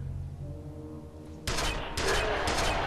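Enemy gunfire in the first-person shooter F.E.A.R.: a low droning background gives way halfway through to loud, sharp volleys of automatic weapon fire that keep bursting in heavy waves until the end.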